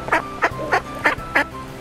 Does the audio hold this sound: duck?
yes